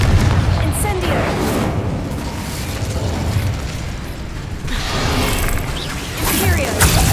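Confringo blasting spells explode in Hogwarts Legacy, a series of loud, booming bursts piled on top of each other with rumbling crackle between hits, joined by a voice shouting in the middle.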